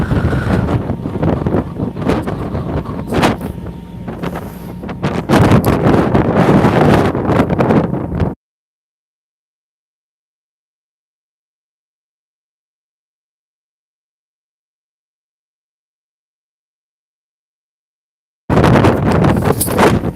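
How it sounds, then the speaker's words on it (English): Strong wind buffets an outdoor microphone high up, a loud, continuous roar for about eight seconds, then a long stretch of silence before the rumbling gusts return. "It's very windy up here, so you can mute me if you like."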